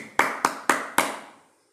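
A classroom gives four quick, evenly spaced claps in unison for the player of the match, each one crisp and short with a brief ringing tail in the room, then silence.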